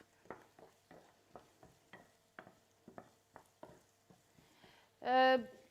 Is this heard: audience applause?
no